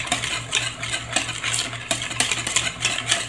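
A cookies and cream ice cream mixture is stirred by hand with a spoon in a bowl, giving repeated clinks and scrapes in an uneven rhythm, close and fairly loud.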